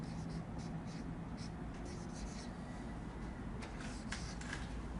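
Pen scratching out a math formula by hand on paper, a soft continuous scribble with brief stroke accents, close and quiet, with a faint voice in the background.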